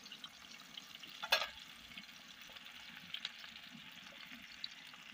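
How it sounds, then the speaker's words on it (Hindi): Cumin, onion and chili fry gently in a pan, a faint steady sizzle with a brief louder crackle or stir near the start. "जीरा डाले हैं, प्याज डाले हैं और मिर्चा डाले हैं। तो इसको हम फ्राई करेंगे"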